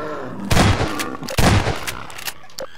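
Two loud, close shotgun blasts in Half-Life 2 Episode 2, each a sharp boom with a ringing tail, followed by fainter in-game clatter and small impacts.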